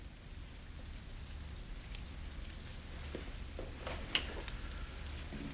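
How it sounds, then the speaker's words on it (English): Steady rain pours down as a constant wash of hiss with scattered drop patters, fairly faint and without voices. "It's pouring rain."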